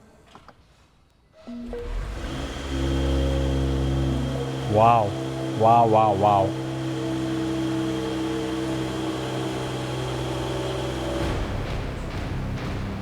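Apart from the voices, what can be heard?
Mercedes GLE53 AMG engine starting and revving after rebuild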